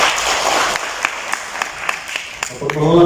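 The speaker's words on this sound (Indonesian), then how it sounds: "kita kasih aplaus sekali Pak Ketua Komisi 2" Audience applause for the chairman of Commission II at a regional autonomy forum meeting in Indonesia, a steady wash of clapping throughout with a few sharper claps standing out and a voice starting to speak near the end.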